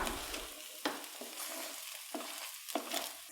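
Spoon scrapes and taps against a pan as rice with pepper powder is stirred, a few sharp clicks over a soft steady sizzle, close and moderately loud.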